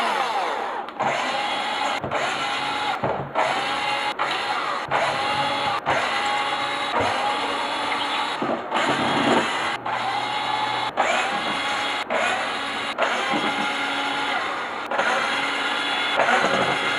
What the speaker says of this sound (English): it's time to take out those screws